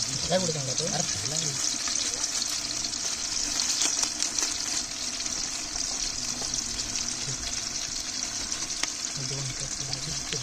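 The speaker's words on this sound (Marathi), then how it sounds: "आता त्याच्यामध्ये खडा मसाला आहे तो खडा मसाला पण टाकून परतवून घेऊया" Whole spices are sautéed with onion and coriander in a pan at an outdoor riverside cookout, giving a steady frying hiss with occasional stirring scrapes, while a voice talks over it at the start.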